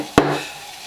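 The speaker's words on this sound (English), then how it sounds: "if you've got milk like that with big bubbles in it, just tap it" A single sharp tap as a milk jug is knocked against a counter to clear big bubbles from steamed milk for coffee, one close thud followed by a brief ringing decay.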